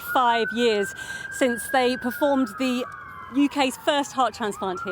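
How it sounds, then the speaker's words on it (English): A siren wails steadily in the distance outside Royal Papworth Hospital, a long sliding tone running beneath a person speaking close by. "You know we're definitely at the hospital because you can hear the sirens right now"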